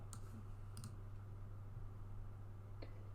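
A computer mouse clicks a few times, sharp faint taps, two close together early and another near the end, over a low steady hum.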